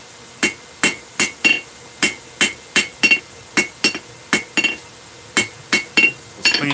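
Steady, evenly spaced hammer blows ring out on hot metal over an anvil face while tapering, about fifteen sharp clinking strikes in a regular rhythm, close and loud with no talk.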